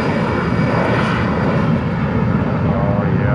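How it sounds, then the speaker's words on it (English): Airliner gas turbine engines roar steadily at Austin-Bergstrom International Airport, a loud, continuous broadband rumble with no voices over it. "Listen to the performance of those gas turbine engines in there."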